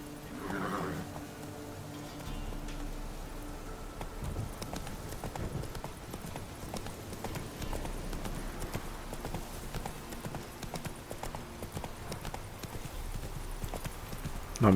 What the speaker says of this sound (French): Il part dans tous les sens le cheval.